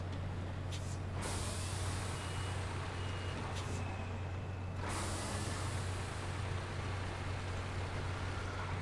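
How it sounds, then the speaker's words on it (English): A long, steady hiss of truck air brakes from the Snowrunner game, with a low engine rumble beneath and brief bursts of higher noise near the start and middle. "Brakes! Boom, boom."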